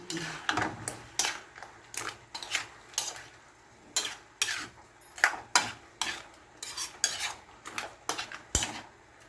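Fried chicken being stirred in a pan, a steady series of metallic clinks and scrapes of a utensil against the pan, close and repeated about once a second, with light sizzling and a little talk.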